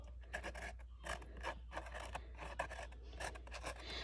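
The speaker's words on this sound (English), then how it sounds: "Trying to write." A marker pen scratching out letters on a plant label for a beefsteak tomato, producing quick rasping strokes in short bursts with brief pauses, close and fairly quiet over a low steady hum.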